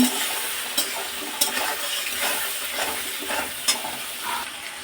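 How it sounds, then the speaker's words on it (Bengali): Chicken with spring onion and green chillies stir-fries in a hot pan, a steady close sizzle broken by regular scraping strokes of the spatula. "এটাকে নেড়ে চেড়ে নিয়ে চিকেনগুলো যে ভাজা আছে এর মধ্যে দিয়ে আর একটু কষিয়ে নেব"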